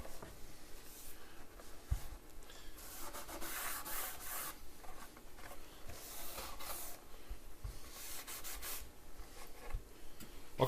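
A maroon abrasive pad scuffs the finish on a wooden cabinet door with continuous, soft, raspy back-and-forth rubbing strokes, close by and fairly quiet, with no speech.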